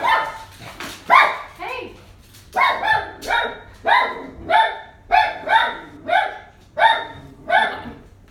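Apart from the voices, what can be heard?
dog barking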